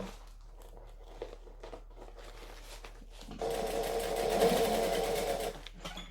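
A sewing machine stitches a Seams Legit Vixen garment in one close, even burst of about two seconds, after quiet handling and rustling.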